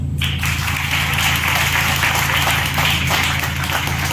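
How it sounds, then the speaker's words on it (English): Applause from an audience at a startup and women entrepreneurship event, a steady dense wash of clapping filling the whole stretch, loud and continuous with a low hum underneath. "Let's clap for them."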